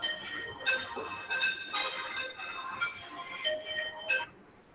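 A phone ringtone plays as a repeating electronic melody of bright tones, moderately loud and close, sounding alone without anyone talking.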